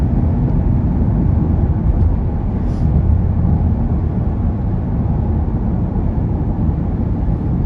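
A Ford EA Falcon, rebuilt from a wreck and freshly wheel-aligned, cruising straight along the road, heard from inside as a steady, unbroken low rumble of engine and tyres with no pauses.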